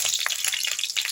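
Dried red chilies crackle and hiss in hot oil alongside mustard seeds and urad dal, a close, bright sizzle with quick popping bursts.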